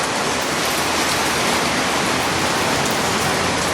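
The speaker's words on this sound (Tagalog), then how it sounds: "Ang lakas pa ng ulan" Heavy rain drumming steadily on a vehicle, a dense, loud, unbroken hiss that holds at the same level throughout.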